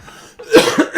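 A single sharp cough from a person indoors, short and close, in two or three quick bursts with no other talk.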